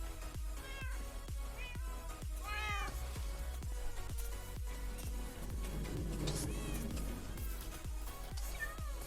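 Several cats meow repeatedly in the Minecraft video game, short rising calls scattered over a steady rhythmic knocking, fairly quiet overall.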